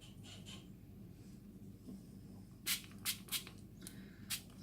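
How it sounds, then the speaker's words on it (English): Ink spray is spritzed onto a card in several quick hissing bursts, a cluster of three close together and then one more, faint and near, over a quiet background. "Spritz it some more, diffuse it."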